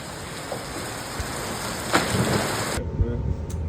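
Steady rain pours outdoors in Bali as a loud, continuous hiss with scattered heavier drops, then cuts off abruptly near the end.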